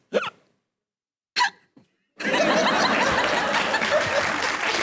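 A man on a comedy talk show imitates hiccups with his voice: two short, sharp vocal hiccups and a faint third, each followed by silence. Then loud, sustained audience laughter and applause break in.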